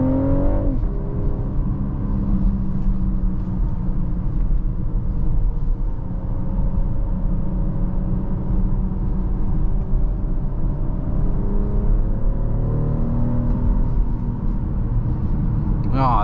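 A 2024 BMW X6 40i SUV engine hums and builds as it accelerates on the road, a steady close rumble with tire and wind noise underneath.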